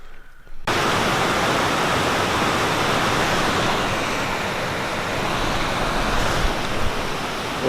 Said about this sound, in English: The river got a little angrier since we came in